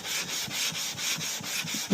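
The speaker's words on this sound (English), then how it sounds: "If you use wet and dry paper like I'm using, you get a better result." Close, rhythmic scrubbing of 1000-grit wet and dry paper on a Moto Guzzi police motorcycle cylinder head, about eight quick back-and-forth strokes of soft even rasping.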